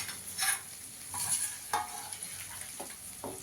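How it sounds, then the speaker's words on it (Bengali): Spice masala cooks in oil in a pan with a soft sizzle under repeated spoon scrapes and light clinks against the metal, close and intermittent. "দেখুন আমার মশলাটা ভালো করে কষানো হয়ে গেছে।"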